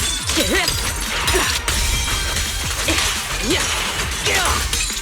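A crisp glassy shattering spell effect from a fantasy video game, bursting out in several bright crackling hits over a busy bed of game sound, close and loud.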